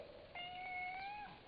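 A cat gives a single clear, rising-then-falling meow lasting about a second, close and fairly quiet, with no talk over it.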